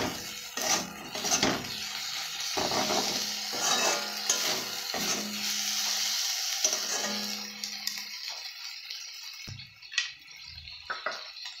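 Food fries with salt in a pan, a continuous sizzle with repeated clinks and scrapes of a spatula against the metal. Near the end the sizzling fades and a single clank rings out.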